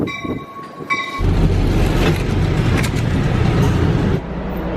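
An NJ Transit Atlantic City line commuter train leaving Pennsauken, with a steady loud rumble of rolling wheels and rail noise heard from inside, opening with quieter tonal whines before the heavy running noise builds and holds.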